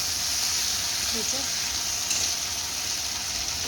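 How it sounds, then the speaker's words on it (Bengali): Chicken sautés in a pan with ginger, garlic, onion, cumin, green chilli and tomato, producing a continuous, fairly loud sizzle and hiss throughout. "চলো চিকেনটা এখন কষাচ্ছি"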